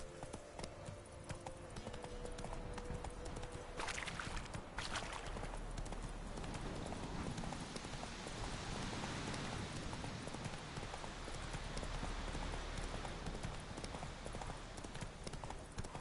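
A horse's hooves clip-clop in The Witcher 3, a steady trotting clatter that runs the whole length under a dense ambient wash of wind or rain.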